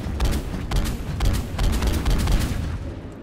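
A Striker assault rifle in Mass Effect 3 fires heavy, booming shots in an uneven series, roughly a dozen loud reports each with a deep rumble, and no voices.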